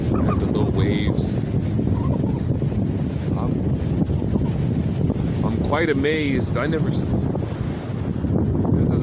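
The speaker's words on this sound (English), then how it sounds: "here's the water here. And the little waves." Strong wind roars across an outdoor microphone beside open water, where small waves lap faintly underneath, and someone speaks briefly partway through.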